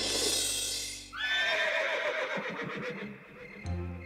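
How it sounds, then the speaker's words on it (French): A loud horse whinny rings out in a meadow, rising and then trailing off over a few seconds, with a faint thud near the end. "c'était un hennissement qui devait venir de la prairie"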